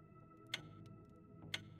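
In-game clock ticking in the co-op puzzle game We Were Here Together, two sharp ticks about a second apart over a steady tonal game hum, with no voices.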